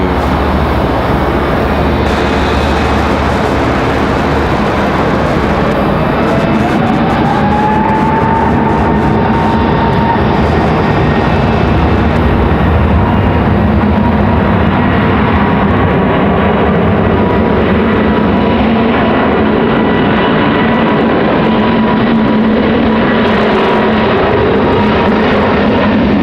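A Frontier Airlines airliner moves around Raleigh-Durham airport, its engines giving a loud, steady roar that fills the whole stretch with broadband noise and a faint rising whine partway through.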